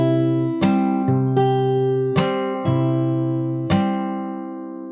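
Acoustic guitar playing a riff slowly, six separate plucked notes and chords that ring out and overlap, close and clear with no voices.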